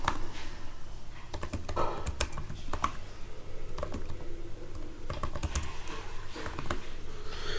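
Computer keyboard keys, arrow keys among them, pressed repeatedly during a software lecture on the Robot Operating System. Irregular, crisp clicks come in small bursts close to the microphone over a low room hum, with no talk.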